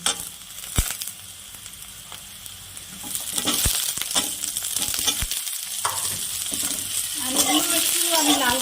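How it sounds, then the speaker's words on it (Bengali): Cut potatoes frying with onions in a pan, a continuous sizzle under repeated scraping and clinking stirs from a spatula, with some brief faint speech near the end. "করে পেঁয়াজের সাথে ভেজে নেব"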